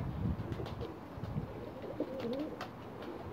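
Pigeons cooing close by, several soft low throaty coos in short bursts over faint background noise.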